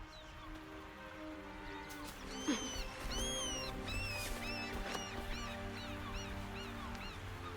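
Chickens in Baldur's Gate 3 clucking and squawking nearby in a series of short, pitched calls over a low ambient background.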